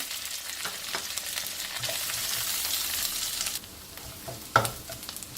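Steady oily sizzling of onions and curry leaves frying in oil, with a few sharp stirring clicks and scrapes; the hiss dips briefly near the end before a louder clatter.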